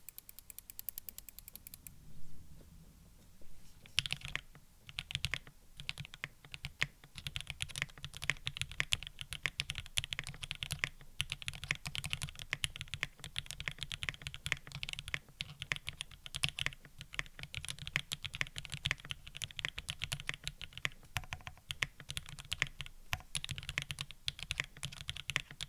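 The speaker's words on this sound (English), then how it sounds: "prepared to type" Fast, steady keystrokes rattle from a freshly built Sangeo65 mechanical keyboard, a dense run of close clicks and clacks that continues for most of the stretch after a brief quiet start, with no talking.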